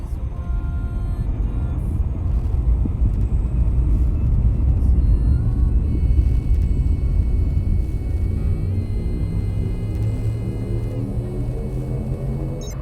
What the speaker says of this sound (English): Charging frameshift drive.